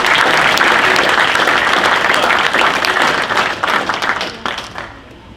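Crowd applause during a gun enthusiast Q&A panel at the NRA 2016 convention, a full, loud burst of clapping that holds steady and then gradually thins out and fades.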